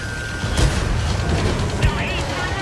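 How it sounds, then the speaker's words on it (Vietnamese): AMX-30B tank cannon fire in World of Tanks Modern Armor, two heavy booming shots about a second apart over a rumbling battlefield bed, loud and fairly near. "AMX-30B ở đằng sau đang liên tục xả đạn vào bốc mình"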